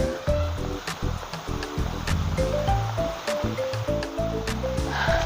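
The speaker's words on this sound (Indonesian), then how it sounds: "jadi di sini udah ada aliran sungai kecil dan airnya ini masih terasa dingin, tapi agak sedikit anget" Small stream flowing near the Cipanas Galunggung hot spring bathing area: a steady, close rush and splash of water running continuously, mixed with faint clattering and handling noise, no voices.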